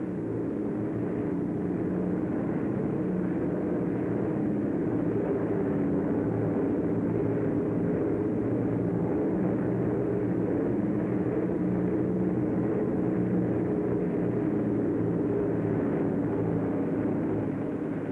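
Focke-Wulf 190 fighter engines from WWII archival footage drone in a continuous, loud, low roar that holds steady throughout, with no voices over it.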